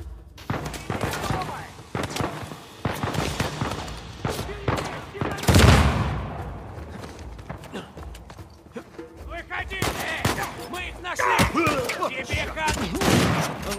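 Gunfire from a firefight in the video game Uncharted 4: A Thief's End, with bursts of shots scattered across the clip, a loud blast near the middle, and voices talking between and over the shooting.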